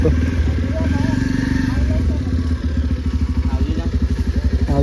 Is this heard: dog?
no